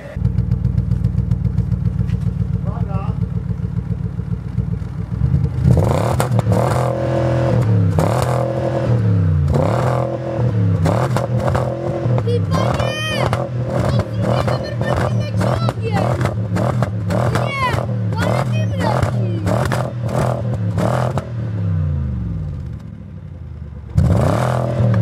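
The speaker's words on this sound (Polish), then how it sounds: "Ale silnik idealnie pracuje, nie?" A BMW E63 engine idles with a steady low drone, then revs repeatedly in sharp, rising bursts, nearby and loud, settling briefly before one final rev at the end, with people talking around it.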